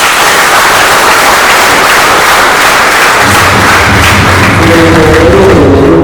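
Loud sustained clapping from a church congregation at a fellowship service, a dense wash of many hands with heavier thumping in the second half and no clear talk.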